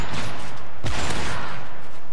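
Sniper rifle fire in Call of Duty MW3 during a 2v2 sniper match: a single loud, sharp crack that rings out and decays, set against dense game noise.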